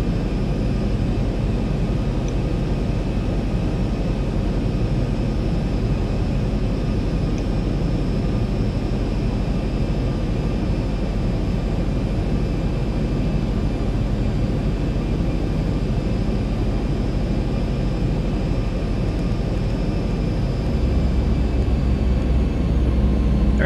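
Steady, loud engine drone from a Boeing 737 in the X-Plane 11 flight simulator, flying through stormy weather; a continuous broadband roar with faint high whine tones, unchanging throughout with no talk.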